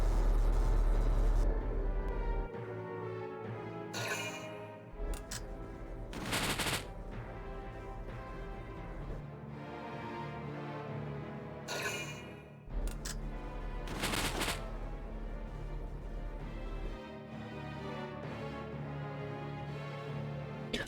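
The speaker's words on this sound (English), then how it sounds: "Under extensive fire." Gunfire in the video game Valkyria Chronicles comes as several distinct loud bursts of shots spread over about twenty seconds, with steady battlefield rumble and engine drone between them.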